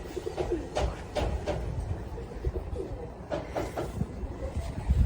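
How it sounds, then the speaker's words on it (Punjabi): Soft cooing of white pigeons repeats in short phrases over steady low outdoor rumble in the evening, with a few brighter bird calls scattered through. "ਉਧਰ ਵਾਈਟ ਕਬੂਤਰ ਨੇ"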